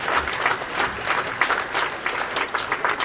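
Audience applause at a film festival closing and awards ceremony in a hall, a dense, steady wash of clapping from many hands, loud and continuous with no talk.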